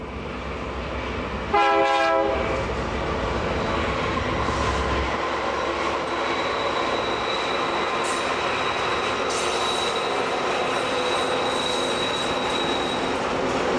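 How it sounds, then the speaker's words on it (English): A BNSF freight container train passes at Keenbrook in the Cajon Pass, California, with a brief horn blast followed by a long steady rumble of rolling cars and faint wheel squeal, heard alone. "a colorful Burlington Northern Santa Fe freight train emerges from under the signal bridge in Keenbrook, California"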